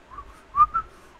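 A person whistles a few short notes drawn inward, a faint thin tone followed by two brighter, louder chirps close together, alone in a quiet room.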